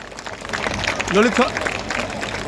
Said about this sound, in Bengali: তাদের জন্য একবার সকলে মিলে একটু জোরে হাততালি হোক